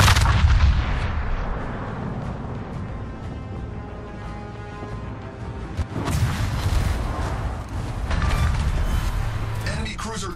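Heavy naval gunfire from the battleship Vermont in World of Warships, with loud booming salvos at the start and again around six seconds, each followed by a long rumbling tail over continuous battle noise.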